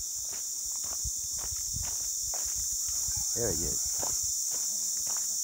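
A steady high-pitched cricket chorus drones throughout at a natural spot on the way to the Jurutungo River, while a person speaks briefly and footsteps crunch nearby.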